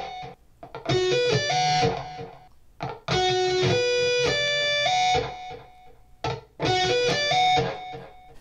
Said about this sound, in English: actually the last four notes of the sweep picking pattern that we're doing here.